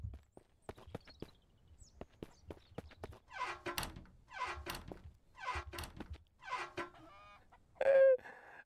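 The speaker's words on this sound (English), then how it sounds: "I got that chicken around somewhere doing its chicken thing" A chicken in the survival game Mist Survival clucks in a series of short, rhythmic bursts amid soft footsteps and thuds, ending with a brief higher squawk.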